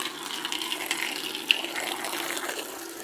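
A garden hose runs steadily into a solar fountain basin, a continuous hissing gush of water at close range with no voices over it.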